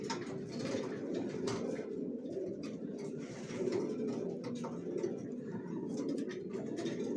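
Original racer pigeons coo steadily and close by in a loft, their low continuous calls overlapping with occasional faint chirps and light background activity.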